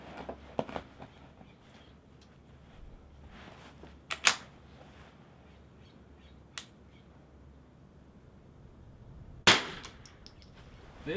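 Rifle shots at an NRL22 rifle match, three or four sharp, distant cracks spaced several seconds apart over a quiet outdoor background with light wind noise.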